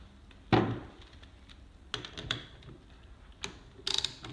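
Craftsman socket being fitted onto a RotechTools open-ended ratcheting wrench adapter, heard as a sharp metallic click followed by a few lighter taps and rattles, close and isolated in a quiet room.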